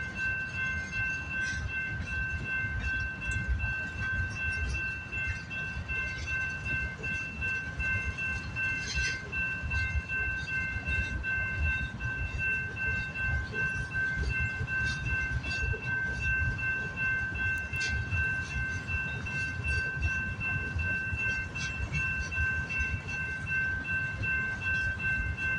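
A CPKC or CN freight train rolls steadily past at Delray Junction, giving a loud, continuous rumble with wheel noise and a sustained high tonal whine throughout, close by with no voices.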